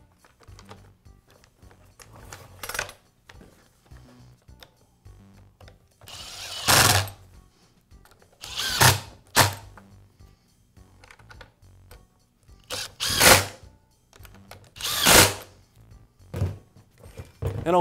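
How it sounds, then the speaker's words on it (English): Hand tools at work reinstalling the starter on a Poulan chainsaw, with scattered close clicks, thunks and brief whirring bursts of varying loudness separated by quiet gaps. "Next, I'll reinstall the starter."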